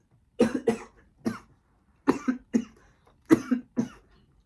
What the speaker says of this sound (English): sorry guys, I just coughed